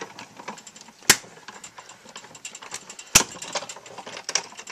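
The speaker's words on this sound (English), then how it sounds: "that cracking is a completely normal sound. It's not your plates cracking, it's the blades cutting through the paper" A die cutting machine presses its blades through paper for a gift tag. Two sharp, loud cracks about two seconds apart stand out over a soft, steady mechanical clicking and rattling.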